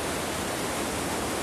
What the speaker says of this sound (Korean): 이렇게 숲속에 감추어져 있는 폭포인데